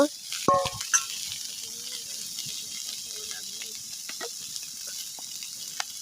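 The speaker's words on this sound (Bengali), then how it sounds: "আমাদের চিংড়ি মাছ কিন্তু হালকা ভাজা ভাজা হয়ে গেছে" Shrimp frying lightly in a pan with soybean oil gives a steady sizzle, with a few sharp clatters near the start, constant and close.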